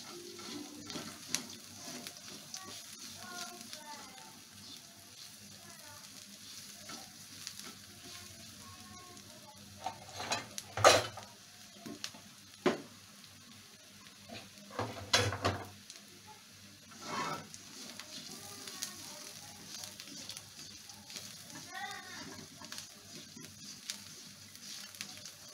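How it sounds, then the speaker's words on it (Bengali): Ingredients with almonds roasting in a pan for dal bati, soft steady sizzling with scraping stirs and a few louder clinks of the spoon against the pan, close and unaccompanied by talk. "আমি সবকে নিয়ে একসাথে ভুনে নেব"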